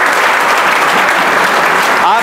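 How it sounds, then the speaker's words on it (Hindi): A crowd at a coaching institute's prize distribution ceremony applauds loudly and continuously, a thick wash of clapping, with a voice briefly audible over it. "आपकी जोरदार तालियां"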